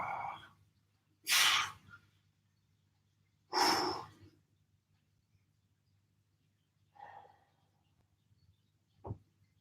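Deep, slow breaths during a home recovery workout session: two strong, drawn-out exhalations, then a softer breath and a short sharp puff, spaced several seconds apart over a low steady hum, close to the microphone.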